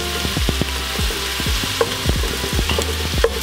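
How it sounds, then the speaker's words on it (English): Onions and shaved garlic sauté in a pan with a steady sizzle, broken by repeated sharp clicks and scrapes of a utensil stirring close by, no talking. "time to start sauteing our vegetables"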